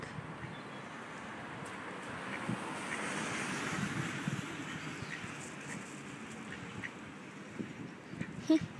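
Ducks quack near shops, outdoors in strong wind that rumbles across the microphone, with a few calls poking out over the steady noise.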